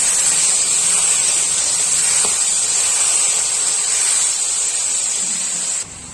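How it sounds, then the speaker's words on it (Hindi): Tomatoes, chillies and kasuri methi sizzle in a hot pan with mustard seeds, a steady loud frying hiss running throughout and dropping slightly at the very end. "बढ़िया से भून देबो"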